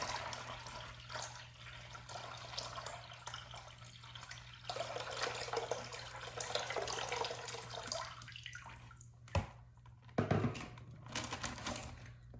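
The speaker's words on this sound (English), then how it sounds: "I'm gonna pour my water in here" Water pours in a steady splashing stream into a zip plastic bag for several seconds, followed by a few crinkling plastic handling noises near the end.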